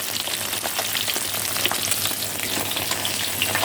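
Sun-dried fish frying in hot oil, a steady dense crackling sizzle close up and fairly loud, with occasional stirring, continuous throughout and no voices.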